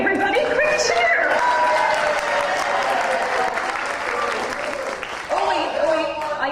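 An audience at a convention masquerade cheers and applauds a Best in Show win, loud dense clapping with whoops filling the whole stretch.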